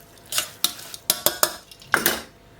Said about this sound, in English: Just going to give that a really good stir around.